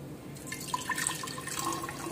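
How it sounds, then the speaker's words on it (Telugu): Water trickles and splashes into a freshly cleaned glass jar, a soft, fairly close liquid pour with small bright drips across two seconds. "సో దీంట్లో వాటర్ వేద్దాం"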